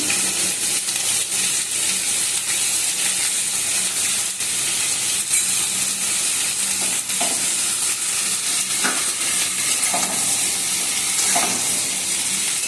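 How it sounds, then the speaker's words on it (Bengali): Salted mixed vegetables with a single eggplant fry in a pan with a continuous close sizzle, broken by occasional scraping clicks of a spatula stirring. "আর এটাকে ভাজা হতে দেবো, একটু লাল লাল করে ভাজা হবে।"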